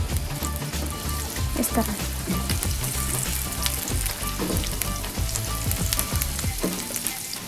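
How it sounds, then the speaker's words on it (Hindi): Crushed garlic fries steadily in cooking oil in a pan, a dense continuous sizzle and crackle with occasional stirring clatter, while someone speaks briefly over it. "ये देखिए लहसुन का है, ये मैंने क्रश किया हुआ, इसको हल्का हल्का फ्राई करेंगे"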